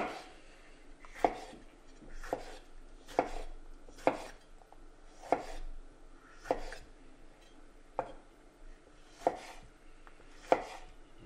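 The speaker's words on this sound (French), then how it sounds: "Une fois qu'on a épépiné les tomates, on va venir les concasser." A knife chops seeded tomatoes on a cutting board in about ten sharp, evenly spaced strikes, quiet and close with no voices.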